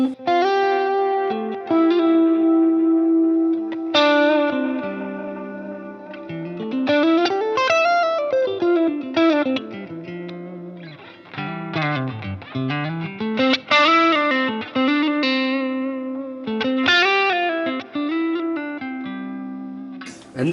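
An electric guitar plays through a Line 6 Helix Litigator amp model with added effects. Sustained notes and bends bloom with modulated, echoing tails, and the playing is close and clear with no talk.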